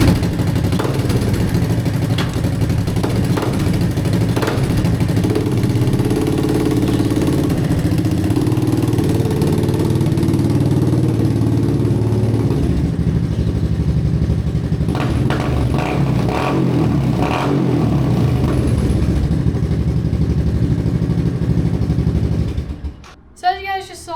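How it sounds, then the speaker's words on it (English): Honda three-wheeler ATV that had sat in a shed for eight years, engine running steadily close up with a chugging mid-pitched drone and clatter as it drives, then cutting off near the end. "the 3-wheeler fired up, it moves great."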